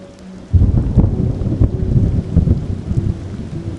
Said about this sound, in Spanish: La lluvia continuaba y parecía que cada vez aumentaba en intensidad.